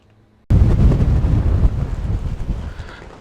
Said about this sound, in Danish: Ja, det blæser lidt i dag.